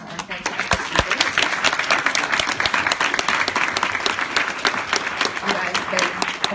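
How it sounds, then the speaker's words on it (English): Audience at a tech Q&A event gives speakers a final round of applause, a dense, steady patter of many hands clapping close by that holds for the whole stretch. "Can I just get a final round of applause for our fantastic speakers?"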